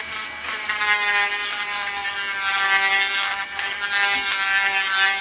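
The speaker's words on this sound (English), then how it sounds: "You just like gotta start dremeling." A Dremel rotary tool carves into a plastic action figure head, giving a steady, close, high-pitched whine with bright harmonics that wavers slightly as the bit bites, continuous for about five seconds with no talking.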